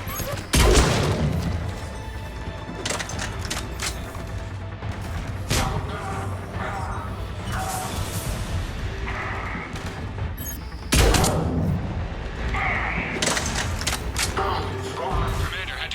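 Gunfire in the video game Mass Effect 3 rattles through a firefight in bursts of shots, with heavy booms and blasts punctuating a game music bed and a voice speaking over it.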